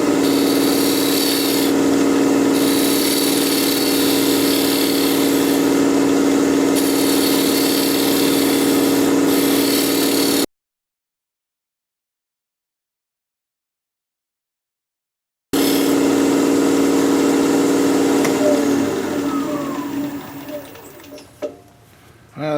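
Hollowing tool cutting into a sycamore vase spinning on a wood lathe, giving a loud steady scraping whine that runs for about ten seconds, drops out, then resumes with rougher, uneven scraping that fades near the end.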